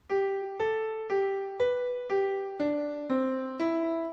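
A melody built from mostly consonant intervals plays as eight evenly spaced plucked notes, each decaying before the next, stepping gently up and down in a clean, quiet line.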